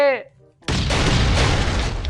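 A loud, sustained bomb blast in the game Last Island Survival erupts after a brief voice, roaring broadband for over a second.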